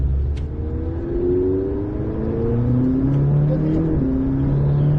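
A McLaren 600LT engine revs up through rising pitch sweeps on a race circuit, accelerating hard with gear changes, heard steadily from inside or close by.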